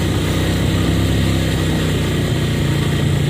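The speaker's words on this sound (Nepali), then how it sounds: "बाइक चाहिँ समेत तानेको छैन होइन।" Motorcycle engine straining as the bike climbs a steep uphill road to a temple, a loud, continuous close-up drone with a steady low rumble and no talking.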